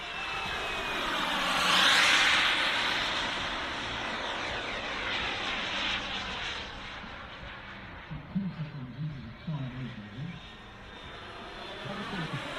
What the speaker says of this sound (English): Probably the fastest starting turbine on the market.